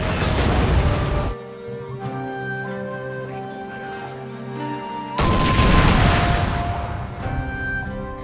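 Armstrong guns firing in the strategy game Total War: Fall of the Samurai, two heavy booming artillery blasts with rumbling tails separated by a quieter stretch of music.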